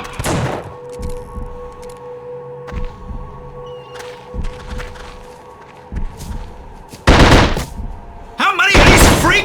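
Gunfire from an inmate's gun in the horror shooter The Suffering, set in a prison: bursts of loud, sharp shots with heavy thuds, growing denser and louder toward the end, with a voice briefly audible early on.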